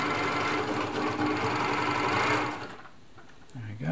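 Elna Air Electronic TSP sewing machine running a zigzag stitch, a loud, steady mechanical whirr and rapid needle clatter for over two seconds before it stops, followed by a faint low hum as it winds down.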